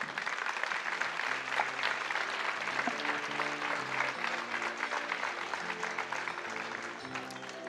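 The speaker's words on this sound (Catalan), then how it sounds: "Des d'aquí volem demanar un fort aplaudiment per vosaltres" Strong applause for the young people at the Festa Major proclamation in Móra la Nova, steady and sustained throughout, with band music playing underneath.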